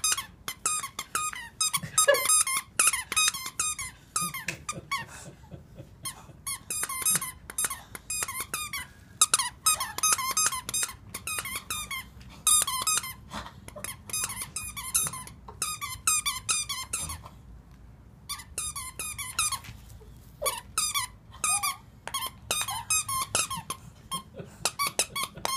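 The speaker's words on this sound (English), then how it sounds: "The squeaker." A dog's squeaky toy squeaks over and over in rapid, uneven bursts, loud and close, with only short pauses between runs of squeaks.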